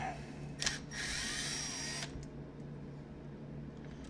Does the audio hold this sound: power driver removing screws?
yes